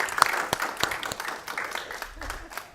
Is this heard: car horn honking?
no